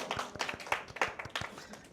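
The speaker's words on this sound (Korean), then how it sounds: "박수." Bible study students applaud in a room with a short burst of scattered, moderately close hand claps that last a couple of seconds.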